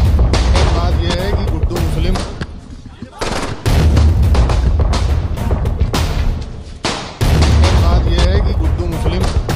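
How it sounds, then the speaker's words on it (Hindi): Gunfire at a shooting in Prayagraj caught in news footage: loud, rapid bursts of shots over chaotic crowd noise and shouting voices, with a brief lull midway. "सूत्रों के अनुसार अतीक और अशरफ पर 2 से 3 बदमाशों ने फायरिंग की है"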